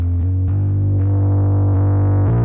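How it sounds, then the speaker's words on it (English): A sustained electric bass note with a thick, harmonically rich tone, shifting pitch a few times, alone with no talking; the character changes slightly partway through as the Nembrini Audio Lofi Vintage Clipper saturation algorithm switches from off to on. "Over on bass, the saturation algorithm is working better for me, so this is without and with."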